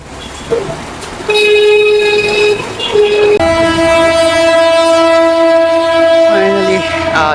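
A train crosses the line near the Dhaka bypass in Bangladesh, sounding long, loud, sustained horn blasts over rumbling wheels and clatter close by, with a brief voice in the background.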